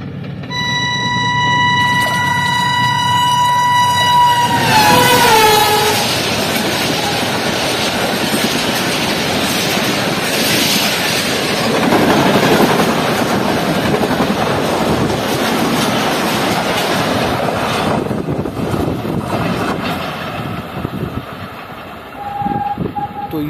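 An AG30 diesel locomotive hauls an express train past, kicking up dust. A loud horn blast opens, then the passing train gives a close, sustained roar with clattering wheels and wagons before it eases off near the end.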